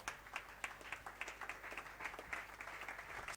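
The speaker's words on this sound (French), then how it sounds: "Acclamons très fort pour le Seigneur." A church congregation at a prayer and fasting service claps together, a faint, fairly quick rhythmic run of handclaps with a slightly uneven beat throughout.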